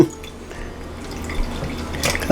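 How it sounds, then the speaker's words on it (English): Strawberry peach sherbet punch pours from a container in a thin, steady trickle with soft dripping and a brief splash near the end, moderately quiet and close, with no talking. "now I'm going to get ready to pour up my punch"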